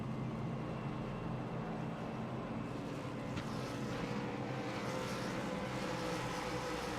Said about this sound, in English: these cars sound so good, especially to drive